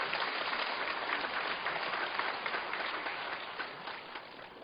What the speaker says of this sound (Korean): 여러분 박수로 한번 힘을 실어 주십시오.